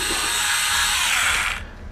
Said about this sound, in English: just kind of run the drill bit in there a little bit